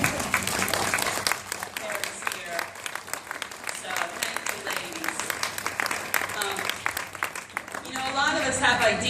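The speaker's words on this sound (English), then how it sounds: "we can just give you a round of applause" An audience applauds at a book event honoring women in the room, sustained dense clapping throughout, moderately loud, with voices and cheering mixed in and a brief spoken burst near the end.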